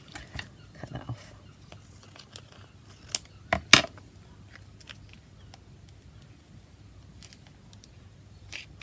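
Scissors snip off glued packaging, a few sharp cuts clustered in the middle over a quiet room background, with soft handling noises around them.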